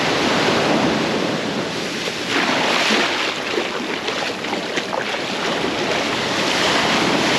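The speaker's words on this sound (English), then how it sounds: "I love the sound of the waves." Ocean waves wash and roar steadily close by at a Pacific beach on the Oaxaca coast, a broad rushing surge with some wind buffeting the microphone.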